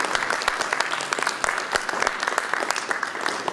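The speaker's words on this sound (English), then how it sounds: "So give him a round of applause." An audience at a 2013 pony fan convention panel in Los Angeles gives a loud round of applause, sharp individual claps standing out from the crowd's steady clapping throughout.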